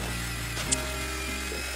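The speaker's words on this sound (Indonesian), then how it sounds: "Setelah itu kita aduk menggunakan bor." A power drill fitted with a mixing paddle stirs white cement wall putty in a bucket, giving a steady droning whir close by with no talking over it.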